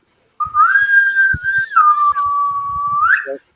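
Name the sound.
whistling imitating a ship's boatswain call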